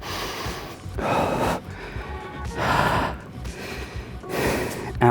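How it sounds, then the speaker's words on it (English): Heavy, effortful breathing after a calisthenics core-strength exercise comes in about three long, loud gasping breaths, each swelling and fading over roughly a second, close to the listener with no talking. "I'm going to stop talking for a bit so I can let my breath settle."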